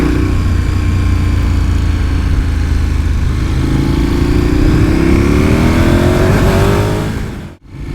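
A KTM 1290 Super Adventure R motorcycle accelerates hard with quickshifter upshifts. The engine roars loud and close, climbing in pitch steadily, then cuts out briefly near the end.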